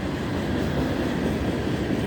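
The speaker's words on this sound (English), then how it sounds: "Yeah, that train is kind of noisy, ain't it?" A train rolls past close by in an urban district, its loud, steady rumble filling the scene without pause and with no talk over it.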